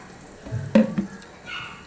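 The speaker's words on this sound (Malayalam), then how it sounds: "കുറച്ച് തിളച്ച വെള്ളം ഒഴിച്ചു കൊടുക്കാം" Hot water poured into a pan of mutton liver curry brings a short burst of sizzling and bubbling. It rises sharply, then settles into a softer simmer.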